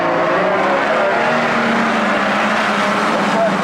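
Street stock cars roar off together at the start of a race, making a dense, continuous, loud engine drone with no voices.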